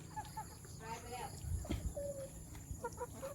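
Chickens kept under a woven basket coop on a farm give soft, scattered clucks and short calls, close and fairly quiet, over a low background murmur.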